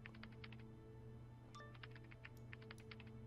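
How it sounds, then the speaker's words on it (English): Faint keyboard typing from the background of the Alita: Battle Angel video game, a patter of light clicks in short bursts over a steady low hum with music-like tones. "What's up with this fake typing in the background?"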